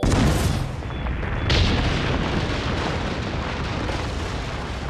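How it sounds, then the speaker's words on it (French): A loud cartoon explosion from a French children's animated series, a big booming blast that bursts out at once and rumbles on with a sustained roar, with a second surge at about a second and a half before it slowly settles. "Vous êtes prêts à affronter l'explosion?"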